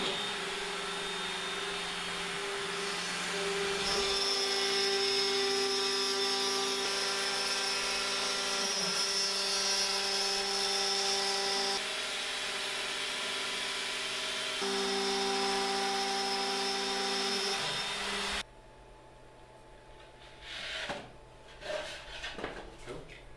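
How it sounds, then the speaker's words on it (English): A dust extraction system running during machine cutting of camper-van panels, a loud steady vacuum-like roar that holds for most of the stretch, then cuts out, leaving quieter clatter and knocks. "We just put the dust extraction in this morning."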